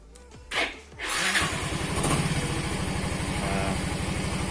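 A Yamaha Mio M3 scooter engine starts after a few clicks, then settles into a steady, close, loud idle with an even putter that runs to the end.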